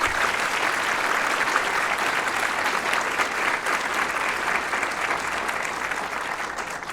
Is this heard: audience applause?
yes